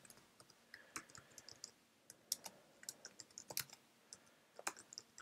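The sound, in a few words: typing a server name on a computer keyboard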